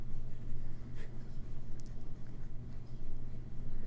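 A fountain pen with a Fude nib, loaded with Montblanc red chalk ink, writes on paper with a soft, close, steady scratching over a low background hum.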